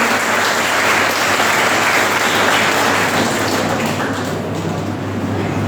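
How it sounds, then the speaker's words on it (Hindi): A crowd at a formal welcome ceremony applauds loudly and steadily for Raghav Gupta, a dense, continuous wash of clapping with no voices over it. "तो एक बार जोरदार तालियां राघव गुप्ता के लिए।"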